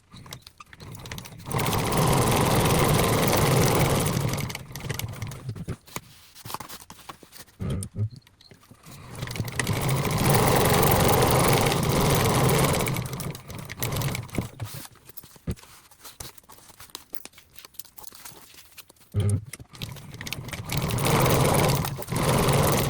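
Sewing machine stitching the pieces of a Celine-style bag together on three sides, running in several long loud bursts separated by short pauses and quieter handling.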